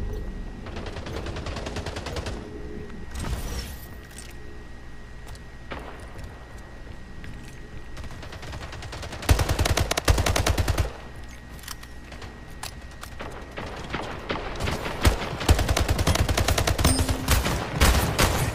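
Bursts of rapid gunfire from the arena shooter video game Splitgate, several loud automatic volleys separated by quieter gaps of game ambience.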